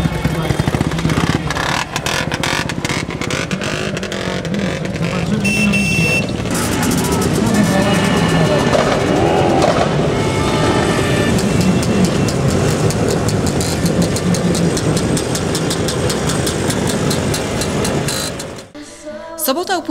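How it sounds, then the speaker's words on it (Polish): Old motorcycles at a vintage rally during a town festival in Leszno, Poland: a dense, continuous engine rumble from several bikes, loud and close, running steadily before trailing off near the end. "Tradycją Dni Leszna jest też rajd starych motocykli"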